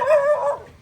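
Dog giving a short, close whimpering yelp on a street in a storm-affected town, a single brief bark-like cry that trails off quickly.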